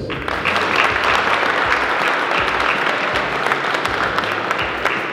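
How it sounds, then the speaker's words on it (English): Loud, sustained applause from a crowd at a high school senior night wrestling event, dense continuous clapping throughout with faint voices in the mix. "a big round of applause for your 2020 senior wrestlers"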